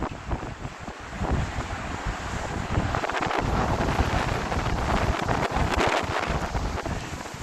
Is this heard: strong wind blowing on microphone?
yes